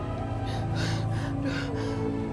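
A man pants heavily, out of breath, in rhythmic loud gasps close up over a steady low background hum.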